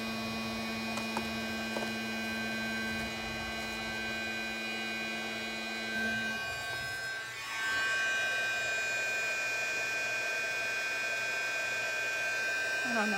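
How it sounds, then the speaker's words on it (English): Heat gun running steadily while warming up at a card-crafting desk: an even electric whir and blowing hiss with a constant tonal hum that shifts slightly partway through, close and continuous. "give me a second here while my heat gun heats up"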